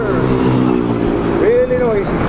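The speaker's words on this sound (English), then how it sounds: "That Jeep's muffler," A Jeep with a noisy muffler passes close by, its engine drone rising and sweeping in pitch as it goes, heard over steady road noise while people talk.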